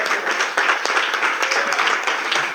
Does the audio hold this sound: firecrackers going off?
no